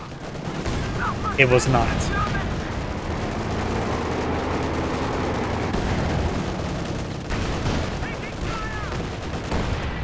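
Distant artillery fire in a Company of Heroes 2 battle, muffled booms and crackling shots over a steady rumbling battlefield backdrop, with someone speaking briefly.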